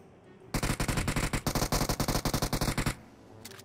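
Sustained rapid automatic gunfire in a video game, a loud burst of evenly spaced shots lasting over two seconds before cutting off, followed by a couple of faint distant shots.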